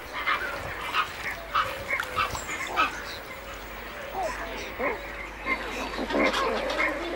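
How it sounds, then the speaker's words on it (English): Pelicans in a large breeding colony call over one another, a busy mix of honking, grunting and quacking cries in uneven bursts over a low background rumble. "enormous breeding colonies of pelicans, some containing hundreds of pairs"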